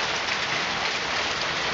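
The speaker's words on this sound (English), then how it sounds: "So that's hail over there" Hail pelts down in a dense, steady hiss during a September hailstorm in Indianapolis, a continuous loud patter of ice striking surfaces with no voices heard.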